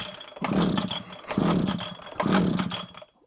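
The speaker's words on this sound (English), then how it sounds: "Oh, that fired" A Komatsu Zenoah strimmer engine fires in three loud, rough bursts, each about a second long with a short gap between, sputtering and catching on choke before cutting out.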